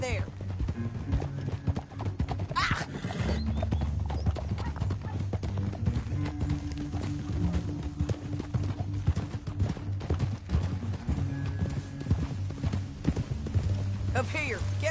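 Horse hooves galloping in Red Dead Redemption 2 on a canyon chase, a steady fast clip-clop that runs throughout alongside a low rumble, with a brief whinny and voices talking over it.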